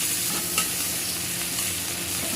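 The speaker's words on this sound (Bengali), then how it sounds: "পেঁয়াজটা দিয়ে দিয়েছি পেঁয়াজটা হালকা ভাজা হবে" Onions frying in oil left over from hilsa fish in a kadai, a loud, dense, continuous sizzle close up with no voices.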